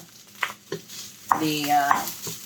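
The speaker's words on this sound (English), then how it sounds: "And now we're going to add our quinoa. So this is tricolor quinoa." Tricolor quinoa poured into a pan while cooking, a short rattling, sizzling wash that follows a few light clinks and stirring taps, close by, with no talking.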